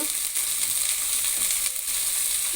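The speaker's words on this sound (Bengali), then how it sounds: "এখানে আমি 4টা বেগুন কেটে নিয়েছি। এটা হালকা করে একটু ভেজে নেব" Cut eggplant pieces fry in hot oil as a continuous, fairly loud hiss and crackle over a few seconds, with no speech.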